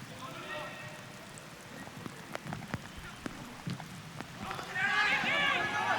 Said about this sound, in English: the rain absolutely driving down here in Munich